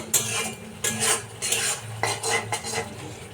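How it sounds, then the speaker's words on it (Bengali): Chili powder and spices stirred in a pan for paneer curry, a spoon scraping and knocking against the metal in repeated strokes, with a faint sizzle underneath, close and fairly loud. "তো এইগুলোকে এখন ভালো করে মিশিয়ে নেব"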